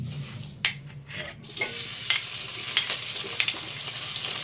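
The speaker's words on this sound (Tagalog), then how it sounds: "Next, prito natin yung ating chicken balls." Chicken balls fry in a pan, a broad continuous sizzle that starts after a few stirring scrapes and holds steady with occasional crackles.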